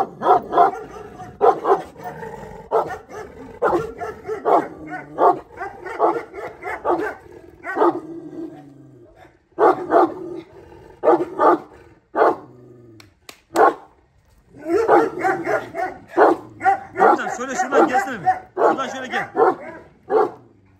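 A Turkish shepherd dog barks repeatedly in short, sharp bursts at close range, with brief pauses between volleys and people talking in between.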